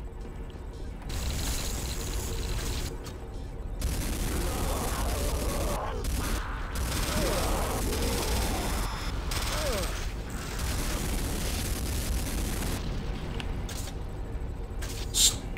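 Gunfire in Command and Conquer Renegade, a steady stream of rapid shots over a continuous battle din, fairly loud and sustained with occasional short breaks.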